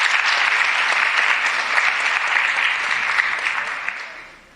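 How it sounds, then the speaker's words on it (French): An audience applauds a guest speaker at an event on youth allies against violence toward women, a dense steady clapping that holds for several seconds and then fades away at the end. "donc on peut l'applaudir"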